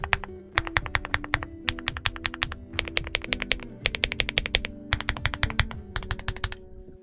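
Aula F75 Pro mechanical keyboard being typed on, close and crisp, with rapid bursts of keystrokes separated by short pauses and a deeper thock under each press.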